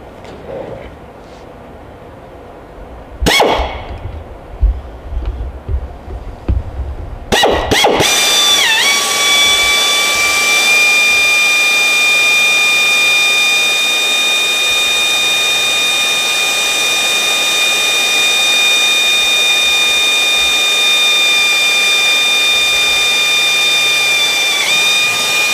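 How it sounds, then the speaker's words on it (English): A pneumatic drill bursts on briefly, then settles into a loud, steady, high-pitched whine that runs on unbroken in an aircraft riveting workshop, with no voices. "Let's start the drill."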